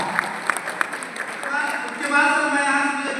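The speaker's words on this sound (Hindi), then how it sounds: "और उसके बाद जोरदार तालियां" A seminar audience breaks into applause, a few scattered claps at first building into a fuller burst of clapping that continues under a speaking voice.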